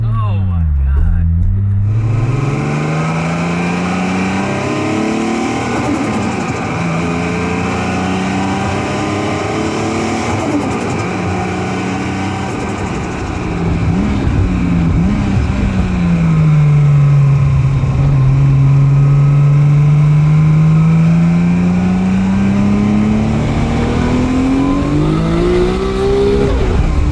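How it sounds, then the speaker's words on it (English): A Toyota Supra's RB26 race engine idles then revs, pitch climbing and falling in long sweeps, loud and close, with people talking over it. "That's a race motor."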